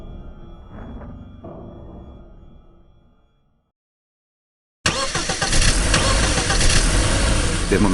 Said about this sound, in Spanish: De momento escuché 6 motores en la cercanía